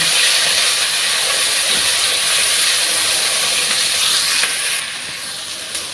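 Onions and crushed big cardamom being mixed in a hot pan for paneer biryani, a loud steady hiss of frying that eases slightly near the end, with no voices.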